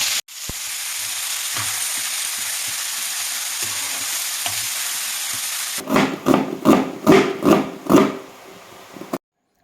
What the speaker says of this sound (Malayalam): ഒരു പാൻ ചൂടാക്കി വെളിച്ചെണ്ണ ഒഴിച്ച് ഫ്രൈ ചെയ്തെടുക്കുക